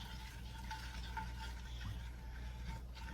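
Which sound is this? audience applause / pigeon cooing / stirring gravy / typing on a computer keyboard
stirring gravy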